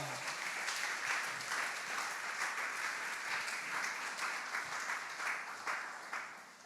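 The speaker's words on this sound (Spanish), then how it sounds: "Dale un aplauso fuerte al Señor el día de hoy." A church congregation applauds during a sermon, a broad, sustained roar of many hands clapping at moderate distance that tapers slightly toward the end.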